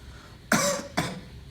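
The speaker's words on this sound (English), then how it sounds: "I'm now going to ask the patient to cough." A patient coughs twice in close succession during an abdominal examination, two short, sharp bursts in a quiet room.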